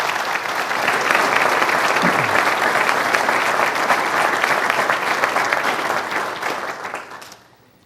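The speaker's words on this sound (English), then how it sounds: "Let's give them a round of applause too." A large audience applauds city employees and union leadership at a State of the City address, sustained dense clapping that holds steady for several seconds, then thins out and fades away near the end.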